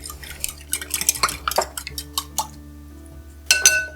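Spoon scraping and clinking against a pan while stirring a cream gravy for a Christmas breakfast, a busy run of close metallic taps and scrapes with a pause before a final louder clatter.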